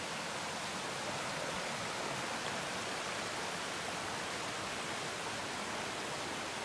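Stream water flowing beside the Appalachian Trail in Connecticut, a continuous close rushing wash that stays level and unbroken throughout.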